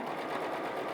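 A sewing machine buzzes steadily through a fabric seam on pajama pants, a continuous close, even whir with no pauses or voices.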